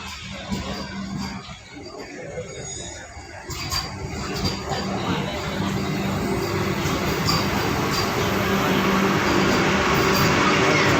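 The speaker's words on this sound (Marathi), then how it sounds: "ट्रेन निघाली आपली रत्नागिरी स्टेशनवरपासून" A Vande Bharat express train rumbles low and steady leaving Ratnagiri station, the rolling noise slowly growing louder as it pulls away and gathers speed.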